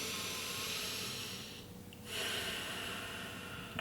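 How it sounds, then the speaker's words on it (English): Slow, deep breathing during a relaxation exercise, a long airy inhale and exhale with a quiet pause between, close and soft with no talking. "breathe in and breathe out. Let's do 2 more breaths"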